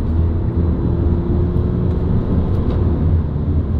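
A 2012 Volkswagen Jetta TDI SportWagen diesel engine drones as a steady low rumble heard from inside the cabin during a manual downshift, with no clear change in pitch and no talking.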